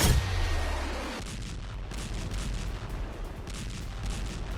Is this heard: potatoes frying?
no